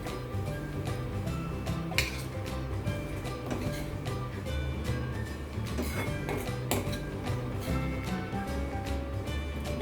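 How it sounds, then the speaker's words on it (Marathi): Dhaba-style paneer tufani curry being served from a pan into a dish, with repeated clinks and scrapes of a spoon against metal over a steady background hum, close and continuous. "आता डिशमध्ये काढूया"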